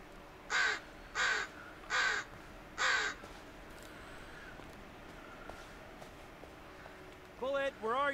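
Crows caw in the Blair Witch video game, four loud harsh calls spaced evenly about a second apart. A long quiet stretch of low ambience follows, then a bird chatter closes the passage.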